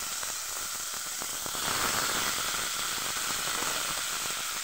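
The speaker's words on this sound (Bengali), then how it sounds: "তেজপাতাটা হয়ে গেছে, এর মধ্যে টমেটোগুলো দিয়ে দিচ্ছি" Chopped tomatoes hitting a hot pan with a bay leaf give a steady hiss and sizzle that swells louder partway through and carries on strongly, with no voices over it.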